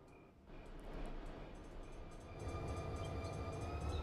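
Simulated train engine in Run 8 Train Simulator rumbling as it starts moving forward, a steady low drone that swells slightly louder partway through with some rail-like hiss above, no talking.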